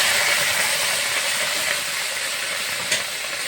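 Potato and banana stem fry in a pan as tomatoes go in, making a loud, steady hissing sizzle throughout with one faint clink near the end.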